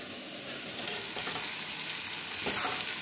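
Curry leaves frying in a hot tempering for semolina upma, a continuous close crackling sizzle with occasional stirring scrapes and brief pops.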